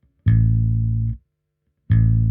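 Bass guitar plays a long note that is cut off short, followed by silence before the next pluck starts, leaving a clear gap between notes; loud, close and solo.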